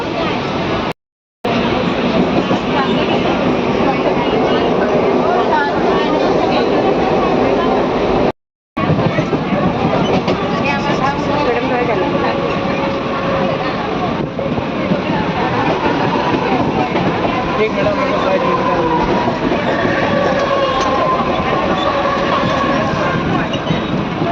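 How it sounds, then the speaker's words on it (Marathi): Continuous rumbling and rattling of a moving train fills the space, with steady clatter underneath and voices talking throughout. "फायनली आमचा ट्रेनचा प्रवास चालू झालेला आहे."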